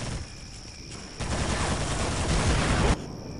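Gunfire in the Iron Grip: Warlord video game, one sustained, loud, noisy volley lasting under two seconds over steady ambient noise.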